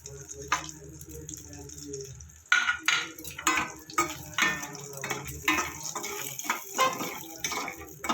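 Whole garam masala spices fry in mustard oil in a wok, crackling and spitting in bursts with scraping stirs, close and moderately loud.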